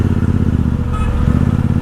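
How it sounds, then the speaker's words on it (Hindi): A Royal Enfield Super Meteor cruiser motorcycle ridden on the road, its exhaust a loud, close, steady low thump with a brief higher whine partway through, no speech. "एग्जॉस्ट मेरे को कानों में बहुत ही सूदिंग है।"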